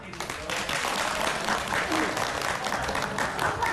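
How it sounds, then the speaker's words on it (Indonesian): Audience at an evening youth forum applauding an introduced director, a dense, even burst of clapping from a sizeable crowd, steady and loud throughout. "tepuk tangan untuk beliau."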